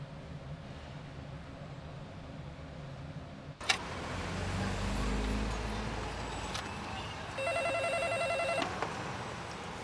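A repeating telephone signal tone beeps in a quick pulsed series near the end, faint beneath a low background rumble.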